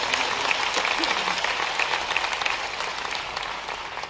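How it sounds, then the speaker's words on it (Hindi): Steady applause from a large crowd at a public event attended by a Madhya Pradesh chief minister, dense and continuous, fading slightly toward the end. "आप आए इसलिए तालियां बजा के आप स्वागत कीजिए।"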